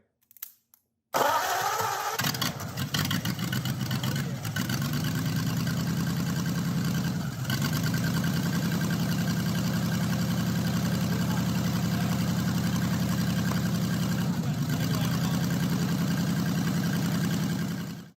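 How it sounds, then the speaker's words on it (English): A Ford flathead V8 engine cranks briefly, then catches and settles into a steady, loud, low rumbling idle that runs on without a break. "you want to find an engine that you can hear running"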